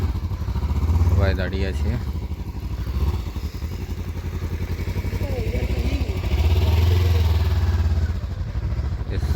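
A group of motorcycles, including a Honda CB300, an Xtreme 160 and a Ninja 300, idle on an empty road during a group bike trip. Their steady low rumble runs beneath nearby people talking.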